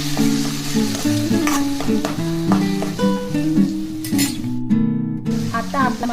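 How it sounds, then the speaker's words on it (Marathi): Garlic, ginger and chili paste being stirred and fried in masala in a pan for rajma: a close, continuous sizzle with scraping stirs, under steady tonal background music. "आता आपण यामध्ये आपण तयार केलेला लसूण, अद्रक आणि मिरचीचा पेस्ट घालून घेऊ। याला आपल्याला छान हलवून घ्यायचे आहे।"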